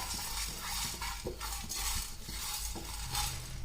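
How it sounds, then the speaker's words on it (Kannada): Coriander seeds, fenugreek and fennel dry roasting in a pan for a crab pepper masala, with steady rustling scrape and stir strokes repeating roughly every half second, close and continuous with no talk. "ಕೊತ್ತಂಬರಿ ಕಾಳು, ಮೆಂತೆ ಹಾಗೆ ಸೋಂಪು ಇದನ್ನ ಡ್ರೈ ರೋಸ್ಟ್ ಮಾಡ್ಕೊಳ್ಳೋಣ."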